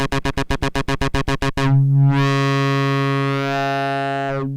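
A Roland TB-303 bass synthesizer runs a 16-step sequencer pattern of rapid, evenly spaced buzzy notes, then slides into one long sustained tone with a sweeping filter before cutting off, played alone.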